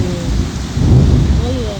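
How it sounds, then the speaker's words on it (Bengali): Heavy rain pours steadily with a low rumble like distant thunder, a dense continuous wash of sound at fairly loud level, with no talking. "এইবারে বৃষ্টিটা ভালো এসছে।"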